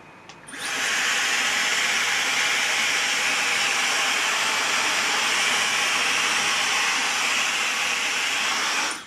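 A Dyson hair dryer roars on after a brief pause, blowing a steady, loud broadband hiss of air that holds constant for several seconds, then cuts off.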